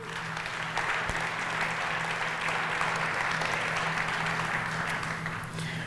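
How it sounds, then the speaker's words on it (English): Sustained applause from an audience at a Vail Symposium author talk, a steady dense wash of clapping that holds evenly for the whole stretch with no voices over it. "I'd like to give them all a big round of applause."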